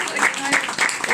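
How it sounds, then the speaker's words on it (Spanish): Applause from an audience at a poetry gathering, a brief burst of steady clapping with some voices mixed in. "Fuerte el aplauso."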